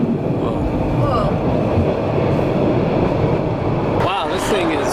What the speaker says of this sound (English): I did not expect the car train to be going this fast.